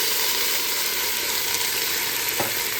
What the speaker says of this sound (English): I'm going to start adding in our wet ingredients. I got a full can of my spaghetti sauce here.